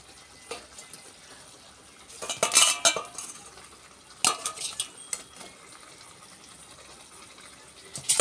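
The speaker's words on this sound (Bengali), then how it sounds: "তেলাপিয়া মাছগুলো একটা একটা করে মাছ খুলে খুলে দিতে লাগবো মাছ।" Tilapia fish pieces going one by one into a small wok of hot oil, with clattering utensil knocks and scraping in uneven bursts over a low sizzle, close and without talk.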